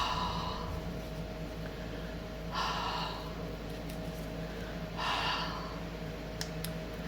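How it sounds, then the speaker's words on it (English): Hot breath blown onto a handmade card, three soft, close exhalations spaced a few seconds apart over a quiet background hum. "And you just use your hot breath"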